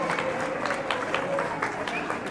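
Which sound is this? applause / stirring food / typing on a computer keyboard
applause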